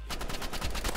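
Rapid gunfire from the hero shooter Marvel Rivals, a dense burst of repeated shots at steady loud level through the whole second, with no talk over it.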